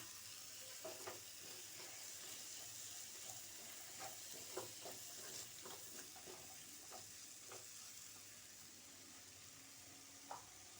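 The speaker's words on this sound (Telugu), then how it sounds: "నేను నానబెట్టేసేసి హాఫ్ బాయిల్ చేసాను. పచ్చెనగపప్పు వేసేస్తున్నాను" Soaked, half-boiled chana dal frying in a pan, a steady close sizzle with small scattered pops and stirring clicks throughout.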